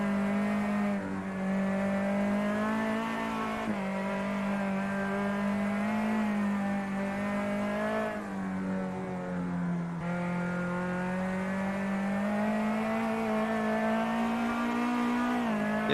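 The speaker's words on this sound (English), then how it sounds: "Listen to the feathering of the throttle here." Race car in Automobilista 2 at Santa Cruz do Sul, its engine droning steadily for the whole stretch as the throttle is feathered, pitch wavering and dipping in small surges rather than full revs, loud and continuous.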